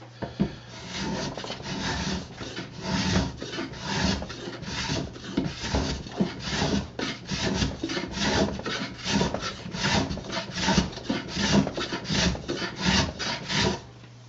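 Homemade brass block plane shaving wood in repeated close strokes, a rhythmic rasping swish with each pass, steady and fairly loud throughout.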